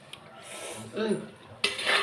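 Washed prawns stirred into gravy in a metal pan, giving a few soft scraping and clinking utensil sounds with faint background noise, mostly alone and close.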